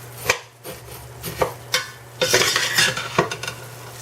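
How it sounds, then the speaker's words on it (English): Seviyan vermicelli fry in a pan for sheer khurma, stirred with a utensil that scrapes and clinks against the metal in uneven strokes over a soft, steady sizzle, close up and with no voices. "you need to stir this continuously because they shouldn't burn"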